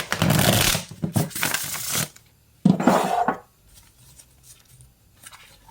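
Tarot cards riffle and shuffle in a few bursts, close up, with quiet pauses between, no voices.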